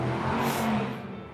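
A loud car revs as it passes close by outdoors, the engine note swelling for under a second and then fading quickly, heard alone without talk.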